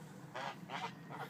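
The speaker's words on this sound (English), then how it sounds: "The geese stay out until 10." Three geese honk in quick succession on a farm yard at dusk, each call short and nasal, fairly faint and slightly distant with no talk over them.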